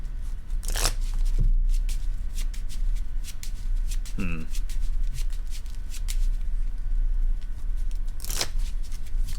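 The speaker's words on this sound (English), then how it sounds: "I'll draw, and then shuffle and draw." A deck of cards is riffled and shuffled at a tabletop game of Keyforge, with quick crisp bursts of card flutter standing out against the steady murmur of talk at the table.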